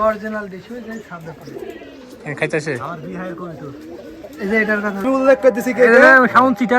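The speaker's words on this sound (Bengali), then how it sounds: "খাটি দেশি এই দেশি কবুতর" Domestic pigeons cooing close by in low throaty bursts, growing louder toward the end, with a person talking at times.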